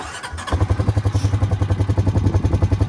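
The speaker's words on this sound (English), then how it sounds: "you have to shift it using the quad bike" A quad bike engine shifting a travelling irrigator on a farm: the motor catches after a brief moment, then runs with a steady, loud, pulsing idle close by.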